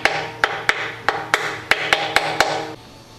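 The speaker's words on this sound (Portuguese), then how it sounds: "Aqui eu vou dar uma batidinha com o martelo de plástico" Plastic hammer lightly tapping an engine oil pump body during an engine rebuild, about nine sharp, evenly spaced knocks close by, each with a brief ringing decay, stopping abruptly near the end.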